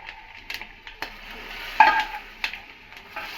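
Ghee-fried coconut added to a pan for palathalikalu and stirred, with a soft sizzle and a few scraping, clinking spoon strokes against the pan, clearest in the middle of the stir.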